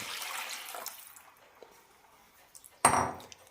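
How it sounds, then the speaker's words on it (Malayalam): Cold water is poured into roasted rice in a cooking pot for ghee rice: faint clinks of utensils, then a short, close splashing gush near the end. "ഇതിലേക്ക് വെള്ളം ഒഴിച്ചു കൊടുക്കാം"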